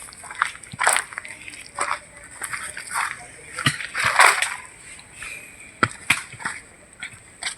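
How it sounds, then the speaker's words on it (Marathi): Rainwater surging under pressure along a newly cut village road toward a tank site in monsoon Konkan, splashing and sloshing in uneven bursts, fairly close, with a steady hiss beneath. "हे बघा किती एवढं पाणी प्रेशर असेल पाण्याला"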